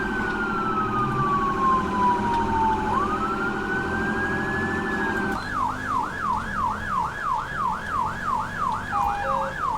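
A GTA V police car siren blares loud and steady, first a slow wailing sweep with a second tone layered over it, then a fast rhythmic yelp that keeps cycling, with no voices.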